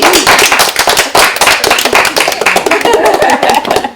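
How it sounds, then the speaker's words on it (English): A group of course participants breaks into loud, brisk applause, many hands clapping rapidly and close by for several seconds, with a touch of laughter mixed in. "give ourselves all a great big clap"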